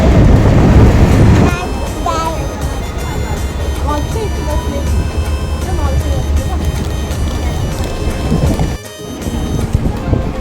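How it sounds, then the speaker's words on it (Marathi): Rumbling, clattering ride inside a moving passenger train, steady mechanical noise with rattles, and people talking over it. "बसलो ट्रेनमध्ये आम्ही आता"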